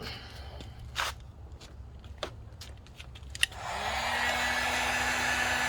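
A heating tool such as a heat gun or hair dryer starts up and blows steadily as it warms the front badge on a Can-Am Ryker three-wheeler, a continuous airy whoosh with a low hum, following a few soft handling taps.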